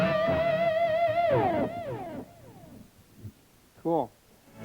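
Electric guitar lead tone with extra distortion, a sustained note bending and sliding downward before decaying, followed by quieter sounds and a brief burst near the end.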